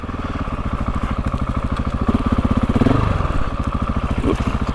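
A GasGas dirt bike engine runs steadily close by on a wooded trail, its fast single-cylinder putter pulsing evenly with a slight swell in revs midway, no talk.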